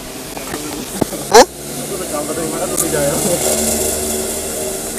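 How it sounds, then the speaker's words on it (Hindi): A waterfall tumbling from a height near Baguio in the Philippines gives a steady broadband rush that swells after a brief loud knock and holds at moderate loudness to the end, with voices faintly nearby. "ये झरना जो वो ऊपर से गिर रहा है"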